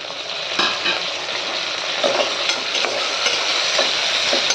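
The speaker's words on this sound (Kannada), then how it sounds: "ಇವಾಗ ತೊಳೆದಿಟ್ಟಿರೋ ಅಂಥ ಹಲಸಿನ ಬೀಜನ ಹಾಕೋತಾ ಇದ್ದೀನಿ." Washed jackfruit seeds drop into hot oil in a pan and sizzle steadily, with scattered crackles and spatters and a few scrapes of stirring, close and fairly loud with no talking.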